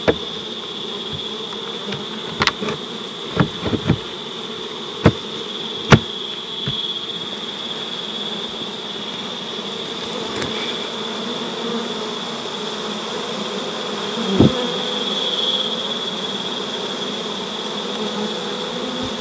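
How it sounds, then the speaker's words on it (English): A small swarm of bees clusters on a baited hive box, a steady close buzzing drone throughout, with occasional soft knocks and clicks against the box. "this little swarm came and clustered on the box"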